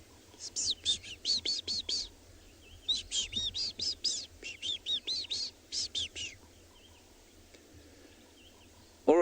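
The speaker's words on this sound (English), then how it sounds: "A couple of white-browed scrub robins, some waxbills." White-browed scrub robins and waxbills call in a dawn chorus, repeated bright whistled phrases in quick bursts, fairly close, over quiet background hum, with a short different call at the very end.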